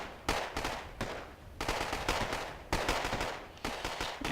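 Rapid bursts of MILAN anti-tank missile fire and explosions in the Wargame: AirLand Battle video game, loud sharp volleys repeating several times in quick succession with no speech.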